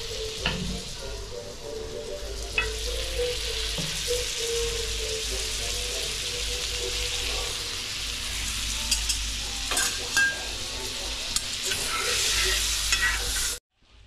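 An oyster patty fries in Amul butter on a griddle with a steady, hissing sizzle that goes on for several seconds. A few sharp crackles and spatters come through, and it ends abruptly.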